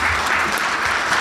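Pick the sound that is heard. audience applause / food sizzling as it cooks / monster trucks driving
audience applause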